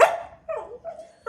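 A dog called Bobby barks on command, giving three short, loud barks in quick succession, close by, with no voices over them.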